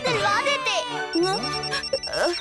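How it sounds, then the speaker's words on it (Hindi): A telephone rings in an animated cartoon, a thin steady ringing tone running under lively cartoon voices. "पापा का फोन आ गया।"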